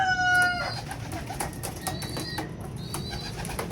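Racing pigeons in a loft, with soft cooing, wing flutters and scattered bird calls over a low background murmur, close and moderately loud throughout.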